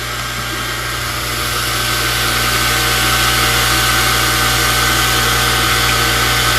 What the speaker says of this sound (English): now we're going to do that same cut with air assist turned on